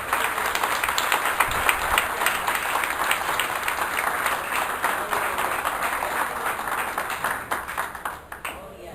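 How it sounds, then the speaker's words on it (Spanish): A church congregation applauds during a Sunday service, a continuous wash of many hands clapping at moderate distance, fading slightly toward the end. "Un aplauso al Señor."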